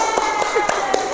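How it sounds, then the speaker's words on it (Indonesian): A small group of students in a classroom claps for the group with the right answer. Four sharp hand claps land in an even rhythm, with faint voices in the background. "Tepuk tangan untuk yang kelompoknya benar."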